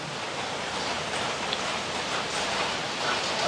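Rain falls steadily outdoors as a dense, even hiss, close and fairly loud, holding at a constant level with no other sounds standing out.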